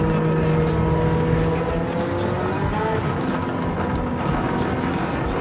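Racing car engines from a Gran Turismo 7 race, an RX-7 among the pack, droning steadily with shifting engine tones and faint tyre noise throughout, under a commentator's voice.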